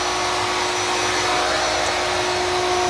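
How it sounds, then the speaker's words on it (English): A CNC router cutting arcade cabinet templates runs with a steady, continuous whine and broadband rush while the bit withdraws. It holds one constant loud drone throughout, close and unbroken. "it's just withdrawing the bit right now"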